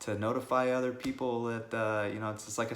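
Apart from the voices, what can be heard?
None of the usual background noises is heard.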